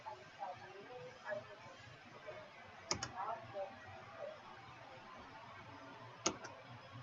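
Mouse clicks in Windows 8 Task Manager: two quick double clicks, a few seconds apart, crisp and close against a quiet background with a faint voice.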